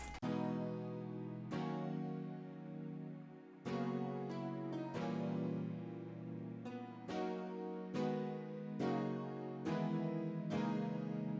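Layered synth chords from a White Bird patch in Purity with piano strings from an XV5080, sustained harmonic stacks changing every second or so in a steady progression, full and continuous with no voices.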